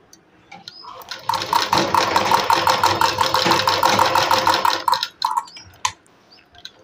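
A sewing machine stitches a sleeve along a line marked three inches above the hem, running as a close, steady mechanical whir for about four seconds before stopping, followed by a few short handling sounds.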